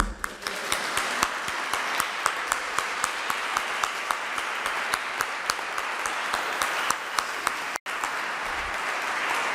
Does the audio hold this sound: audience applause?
yes